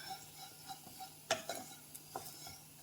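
A spatula stirs and roasts sambar ingredients with sambar powder in a hot pan, giving faint, close scraping and light clinks over a low, quiet sizzle.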